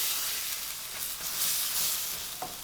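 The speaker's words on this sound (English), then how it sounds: "Oh, doesn't it sizzle nice?" Chinese eggplant sizzles steadily in a hot pan, a bright continuous hiss with gentle crackles, close by and uninterrupted.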